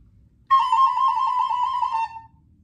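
A recorder plays a steady high mosquito-like buzz as a musical imitation, one sustained tone lasting about a second and a half, clear and alone against a quiet background.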